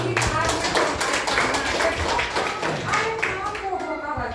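Applause welcoming speakers at a women's empowerment gathering in a village, with uneven, fairly close hand clapping from a modest group and speech mixed in.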